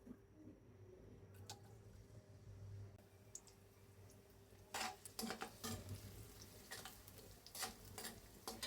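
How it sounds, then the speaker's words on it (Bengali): Sliced onion frying in a pan, a low sizzle with scattered clicks and scrapes of a spatula stirring against the metal, quiet at first and then more active with repeated sharp stirring strokes. "আমি পেঁয়াজটা 2 মিনিট ভাজা করে নিব।"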